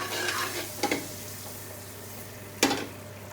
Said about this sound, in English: You really need to caramelize the onions.